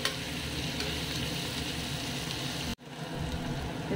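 A paste of curry leaves, garlic and peanuts fries in a pan with a loud, steady sizzle and constant stirring, broken by one brief gap near the end before the frying sound resumes.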